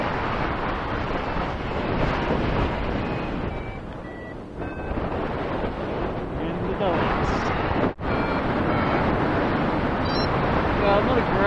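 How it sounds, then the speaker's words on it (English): Strong wind rushing past a paraglider in flight over the Panixer pass in the Dolomites/Tyrol region, a steady loud roar buffeting the microphone throughout with one brief dip. "The wind is coming basically from behind me."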